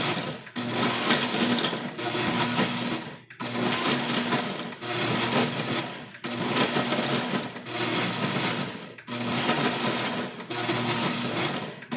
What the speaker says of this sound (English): Put your hand on your blender, wind it up,